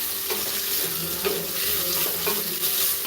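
Ingredients for a plain, simple khichdi frying in a pan, a loud, steady close-up sizzle with a few scraping stirs and no voices.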